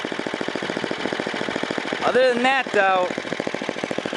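A Tecumseh Snow King 10 horsepower snowblower engine idles close by with a steady, rapid, even chugging pulse from start to finish, while someone talks briefly over it in the middle.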